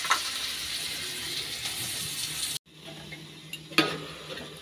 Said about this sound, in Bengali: তো চলো আলুটা ভাজা হয়ে যাক